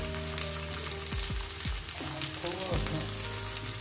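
Chopped onion sizzles softly in a little desi ghee in a pan over a very low gas flame, a quiet continuous crackle with some tonal background sounds sweeping up and down.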